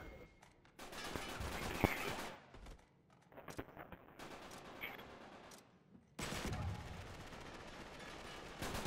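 Gunfire in the multiplayer match of the Uncharted 3 video game: dense bursts of rapid automatic shots and scattered single cracks, with loud stretches broken by brief lulls.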